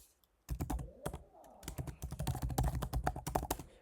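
Rapid, uneven keystrokes on a computer keyboard as a username and password are typed into a WordPress login page, close and clear, starting after a brief pause and running steadily to the end.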